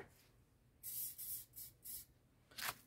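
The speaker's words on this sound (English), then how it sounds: "I will grab hairspray, right? Just ordinary hairspray," Ordinary hairspray is sprayed over a small journal page in several short hissing bursts, four in quick succession and then one more after a pause, close and crisp.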